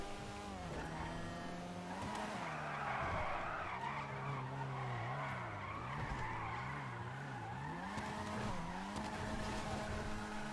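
Tires skid and squeal continuously as a Vulcar Warrener HKR drifts in GTA 5, with a loud, wavering engine note rising and falling under the screech through the whole stretch.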